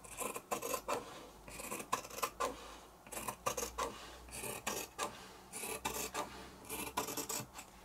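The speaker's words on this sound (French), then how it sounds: "Je vais maintenant découper ma bande avec ma paire de ciseaux." Scissors snip through cotton fabric in quick bursts of crisp cuts, close and quiet, with short pauses between strokes.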